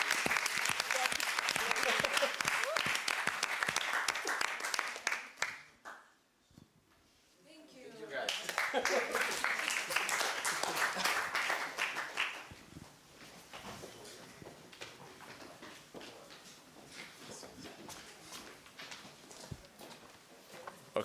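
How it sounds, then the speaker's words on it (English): Audience round of applause at a youth energy forum after final presentations: a loud burst of clapping, a brief pause, then a second strong wave that tapers into scattered claps and murmuring voices. "So really, you all should give yourselves a round of applause."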